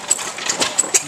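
Antique Leader domestic stationary engine from York, Pennsylvania, with drive-shaft-fired ignition, running at an engine show; a steady close mechanical chug with about four sharp, evenly spaced firing pops over about a second.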